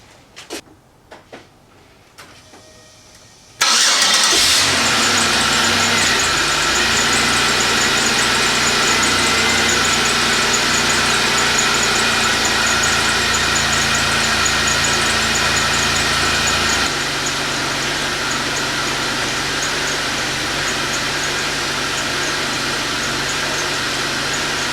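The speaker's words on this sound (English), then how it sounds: "let's go ahead and start the car." A Chevy 3.8L engine is cranked over with a few brief clicks and catches, then settles into a steady, even idle that continues for the rest of the stretch, with slight variation partway through.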